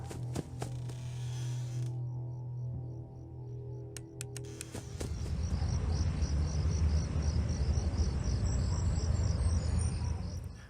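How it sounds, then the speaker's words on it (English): Crickets chirp at night in a dense, continuous chorus that swells after an earlier stretch of mechanical creaking and clicks; no talking, from the video game Five Nights at Freddy's 4. "mixed into that are crickets outside, the faint sound of cars passing by, even dogs barking in the distance."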